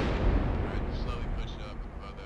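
Distant HE artillery shell impact on a barracks building in the video game ARMA 3, a low, sustained rumbling boom with rolling debris noise, loud and filling the clip without speech.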